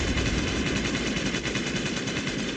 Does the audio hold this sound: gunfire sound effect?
yes